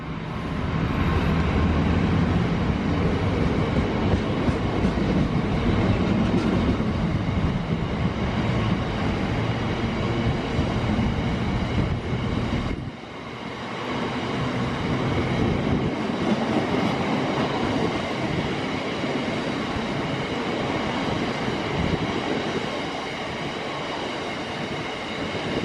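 A freight train rumbles and clatters past close by, a loud continuous roll of wagons and wheels with rhythmic clicking, briefly dipping midway before carrying on to the end.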